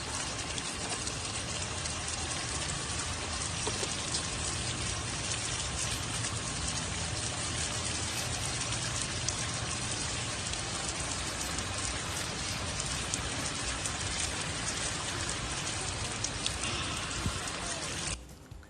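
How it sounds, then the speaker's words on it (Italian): Heavy rain pours steadily outdoors as a dense, even hiss that stays constant throughout before stopping abruptly near the end. "ma a noi non ci fermerà la pioggia"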